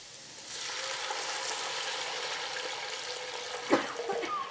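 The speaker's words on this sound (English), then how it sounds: "And what we'll do now is deglaze our pan with our red wine." Red wine poured into a hot pan while braising short ribs, a steady hissing sizzle and liquid rush that builds and holds, with a brief clatter near the end.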